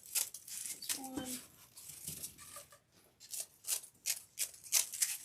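Scissors cutting through Halloween deco mesh for a sugar skull wreath, several quick rustling snips and crinkles close by. A voice talks briefly near the start.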